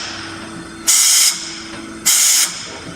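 A spark plug cleaner blasts abrasive media across a spark plug in two sharp, loud hissing bursts, each under half a second, separated by a quieter gap.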